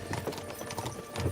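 Hooves clip-clop at a quick trot in the video game Kingdom Come: Deliverance II, a soft rhythmic clatter under a faint background rumble, fairly distant and quiet.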